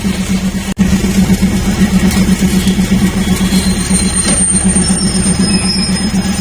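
Local train no. 403 rolls along, a loud, steady rumble with a rhythmic low beat from the wheels, a sharp click early on and thin high squeals creeping in toward the end.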